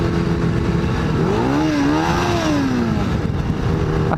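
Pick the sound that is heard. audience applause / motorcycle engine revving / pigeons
motorcycle engine revving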